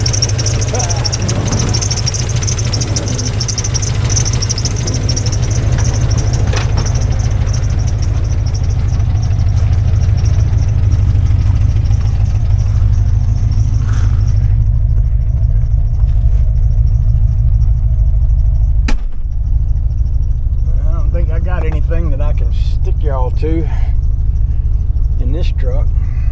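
Someone's old truck drives up the road, its engine a steady low rumbling drone held close throughout, with someone talking over it and a brief break near the end.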